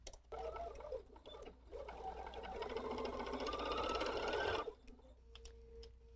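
Sewing machine running up close as elastic is stitched into the corners of a fabric face mask, a steady whirring run of rapid needle clicks that builds for several seconds then stops abruptly, with no talk.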